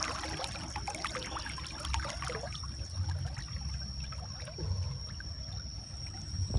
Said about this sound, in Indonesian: Beginilah sungai ini kalau sudah datang banjir